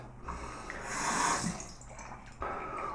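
Marginally warm and then cold water rinses over a person, a soft running splash that swells in the middle and breaks off, then resumes with a quick burst, close and faint.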